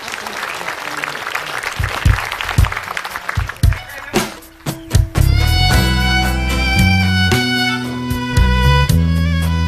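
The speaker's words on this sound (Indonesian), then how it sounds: "kita berikan tepuk tangan yang meriah untuk Mbak Memes dan juga Tristan" Studio audience applause at an Islamic TV show, loud and dense clapping that fades, then gives way to music with sustained tones.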